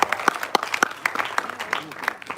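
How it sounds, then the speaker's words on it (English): An audience at a film trailer launch bursts into a short round of clapping, brisk and fairly close, with a voice speaking over it. "So big round of applause for that."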